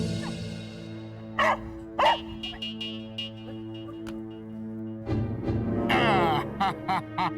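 A dog barks in several sharp, loud bursts close by, spaced irregularly over steady background music and some voices.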